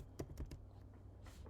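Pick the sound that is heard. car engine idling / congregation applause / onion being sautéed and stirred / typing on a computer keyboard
typing on a computer keyboard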